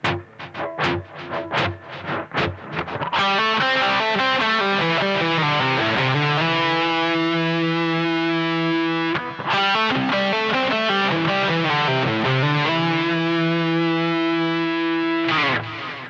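A few sharp muted strums open, then a distorted electric guitar plays a sustained, bending lick with a brief break midway, loud and close.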